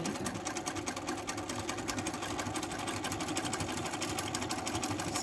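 Domestic sewing machine running steadily during free-motion quilting, a fast continuous mechanical whir of stitches, close and even throughout.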